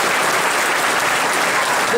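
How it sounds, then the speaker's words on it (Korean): An audience at a Korean political talk concert and fan meeting applauds steadily, a dense, even wash of many hands clapping that fills the whole stretch without pause. "다시 한번 박수 부탁드리겠습니다"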